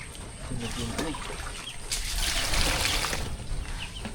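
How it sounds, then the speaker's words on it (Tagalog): Water flows and trickles steadily through a muddy rainy-season channel near ducks, a moderate close rushing under occasional faint bird calls and background activity. "malakas na yung tubig natin"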